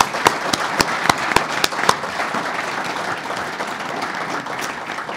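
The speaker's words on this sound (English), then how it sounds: "how about a round of applause" Audience applause at an economic symposium in Bay Harbor, a broad steady wash of clapping with a few sharp, louder claps near the start, holding evenly throughout without speech.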